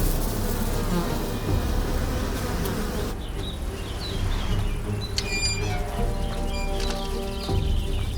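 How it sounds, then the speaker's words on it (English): A wild swarm of European dark bees buzzing in Paris, a dense continuous drone of many wings with individual bees whining past close by. "These are European dark bees, a species that has lived in these lands for millions of years."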